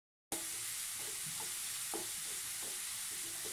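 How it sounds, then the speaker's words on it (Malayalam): Sliced onions sautéing in hot oil in a pan for pepper chicken, giving a steady, close, continuous sizzle with soft stirring scrapes and clicks throughout, no voices. "സവാള ഒരുവിധം നന്നായി മൂപ്പിച്ചെടുക്കണം."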